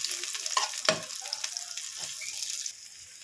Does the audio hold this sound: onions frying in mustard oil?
yes